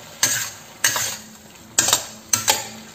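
A utensil stirs pumpkin and egg in a pan, giving four distinct scraping clinks at an uneven pace over a faint sizzle, quiet and close.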